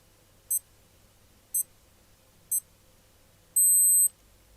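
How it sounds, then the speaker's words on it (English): Casio G-Shock GLX-5600 digital watch timer beeping: three short high electronic beeps about a second apart, then a longer sustained beep, faint and close in a quiet room. "Just beeping away because I've still got the timer going."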